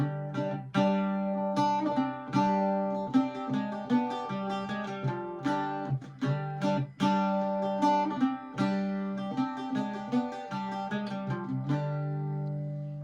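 An Irish bouzouki plays a lively, ornamented Arabic melody over ringing drone notes, with quick rhythmic runs and accents, clear and close without talking.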